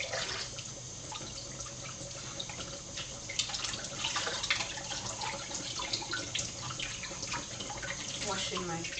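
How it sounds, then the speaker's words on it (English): Water runs steadily from a kitchen tap as sweet peppers are rinsed for green seasoning, a close, continuous splashing stream with drips and handling noises throughout. "Washing my sweet peppers"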